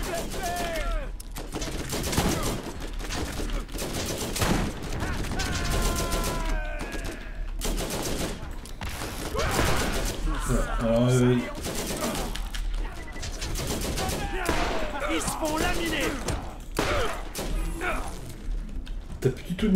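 Scorpio turret gunfire in the Borderlands video game, bursts of rapid shots and thuds scattered through a busy game soundtrack while players talk over the action.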